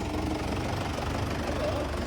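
A new tractor's engine running close by, a steady loud low rumble with knocking texture and no break.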